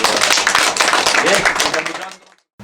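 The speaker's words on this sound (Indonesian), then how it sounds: "Tepuk tangan dulu untuk kita." An audience at a village community meeting in Tulungagung, Indonesia claps in a dense burst of applause, loud and close, tapering off and fading out over about two seconds.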